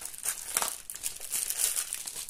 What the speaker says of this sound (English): So I'm just going to slit it here with my scissors. Sorry about the crinkle.